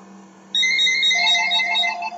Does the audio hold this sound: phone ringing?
yes